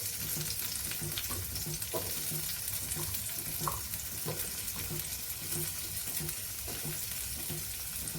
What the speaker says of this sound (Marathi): आणि थोडी हलकीशी परतून घ्यायची आपण.